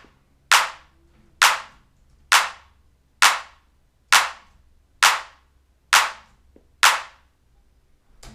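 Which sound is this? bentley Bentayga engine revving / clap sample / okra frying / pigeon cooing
clap sample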